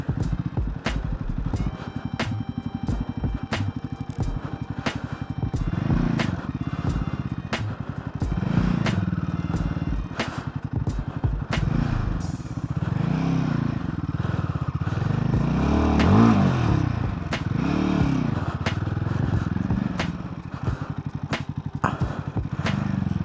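KTM 390 Adventure X and Royal Enfield Himalayan 450 motorcycles riding on a weekend trip, a steady engine drone with rising and falling revs and occasional clattering bumps throughout.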